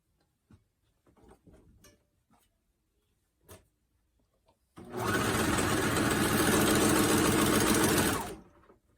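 A sewing machine stitches fabric at a quarter-inch seam for a lace-back dolman top, running in one loud, steady burst of about four seconds after a few light clicks and handling sounds.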